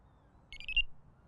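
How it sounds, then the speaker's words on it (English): A Nash R4 Siren carp fishing bite alarm switches on with a short electronic beep tone, brief and fairly faint against a quiet outdoor background. "we're going to turn the alarm on. This is the on button here. You just hold it down."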